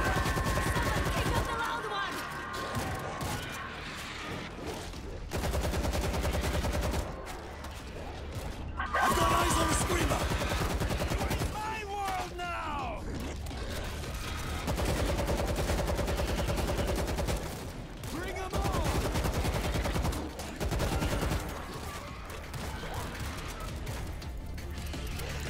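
Gunfire in the zombie shooter World War Z, set in a Tokyo mission, with dense repeated shots and crashes running almost continuously at full loudness alongside shouting and voices.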